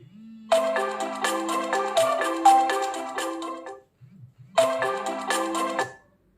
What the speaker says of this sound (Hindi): तो आप अपने फोन में रिंग कर सकते हो